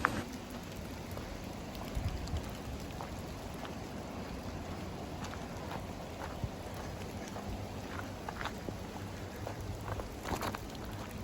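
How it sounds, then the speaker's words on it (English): Rain falls on a forest trail near Tiger Summit in a soft, continuous patter, with scattered sharper drips landing close by over a steady hiss and no one talking. "So it's raining now"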